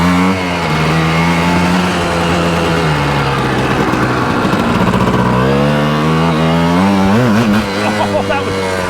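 A Yamaha Tri-Z 250 two-stroke three-wheeler cruises in fourth gear, its engine a loud, close, continuous buzzing drone that wavers in pitch and rises toward the end.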